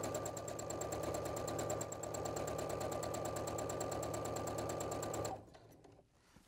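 Sewing machine doing free-motion stitching of a cat design on a trick-or-treat bag, a steady rapid needle chatter running loud and close for about five seconds before stopping abruptly.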